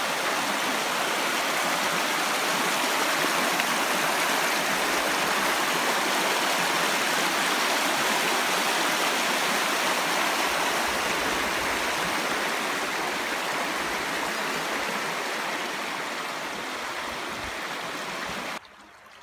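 A river flowing beside a riverbank camp, a steady loud broadband rush of water that continues unbroken, easing slightly toward the end before cutting off.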